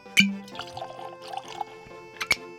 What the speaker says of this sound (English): I feel like a pour right now.